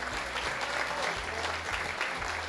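Steady audience applause at an Italian motoring show event, dense even clapping from a crowd in a hall with a low background hum underneath.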